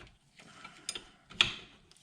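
Metallic clicks from a 15/16 wrench working on the rear suspension spring of a 2020 Husqvarna TE150i dirt bike, a few sharp ratchet-like ticks close by and fairly faint.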